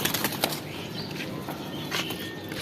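Jet Spring pigeons moving about in a loft, with soft bursts of wing flapping and light scuffling, close but quiet against a steady background hiss.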